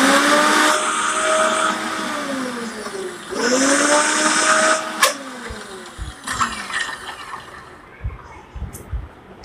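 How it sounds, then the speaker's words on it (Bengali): An Orpat 1200 watt blender grinding a small amount of nuts runs in short bursts, its motor whining up and dropping off between pulses, followed by rattling and clicking as it stops. "10 সেকেন্ড ব্লেন্ড করে করে পরপর ছেড়ে দেবো"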